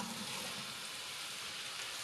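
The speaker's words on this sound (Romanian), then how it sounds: "Punem într-o cratiță uleiul la încins și când s-a încins adăugăm ceapa." Chopped onion sizzles in hot oil in a pan, a steady, dense hiss of frying that holds at an even level from start to finish with no talk.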